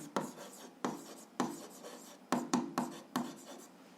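A pen writes on paper close up, scratching out a series of short strokes with brief pauses between them, quiet and with no voice over it.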